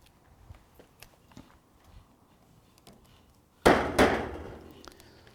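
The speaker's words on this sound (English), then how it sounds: "just a wee tap there to make sure the drill bit doesn't skew off" A drill bit tapped onto Colorbond steel fence top capping while installing a cat fence: faint scattered knocks, then two sharp, loud metallic taps in quick succession that ring briefly before fading.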